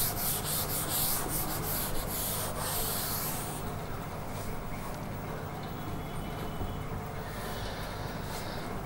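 An eraser or duster rubs writing off a board in a physics classroom, producing a continuous scratchy rubbing noise with quick repeated strokes early on, then a steadier softer scrape.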